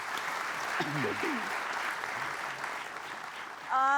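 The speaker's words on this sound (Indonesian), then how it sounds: "Kita kasih tepuk tangan, luar biasa." A talk-show studio audience breaks into sustained applause, a broad even wash of clapping. A voice cuts in briefly underneath, and a short musical tone enters at the very end.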